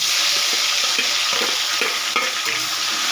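Onion, green chili and tomato frying in oil over coconut pieces in a pan, a loud, continuous sizzle with scraping stirs of a spatula breaking through, close and without talk.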